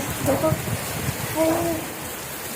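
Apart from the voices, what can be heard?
sudden heavy rain falling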